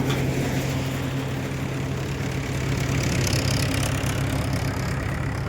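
A tractor engine runs steadily at a peanut harvest, a loud, even low rumble with no pauses or changes in pace, and no talk over it.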